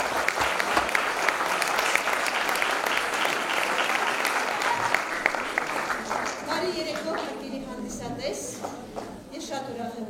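Loud, dense audience applause fills a theatre festival hall in Alaverdi, holding steady for several seconds before thinning out as a voice begins speaking.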